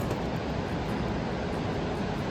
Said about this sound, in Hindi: आज का हमें पहला झरना दिखा जो कि बहुत ही खूबसूरत है और बहुत ही बड़ा है